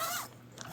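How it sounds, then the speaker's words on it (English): A small zipper on a fabric garage heating enclosure, fitted as a door flap, rasps briefly and steadily for under a second with no voices. "zipper"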